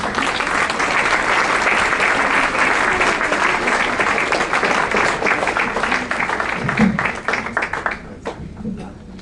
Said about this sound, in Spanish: Un aplauso, por favor, para mi hermano.